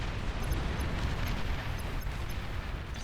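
Bombs exploding in the strategy game Beyond All Reason, a dense continuous rumble of overlapping blasts, loud and unbroken for the whole stretch, with faint high tones sprinkled above and no talking.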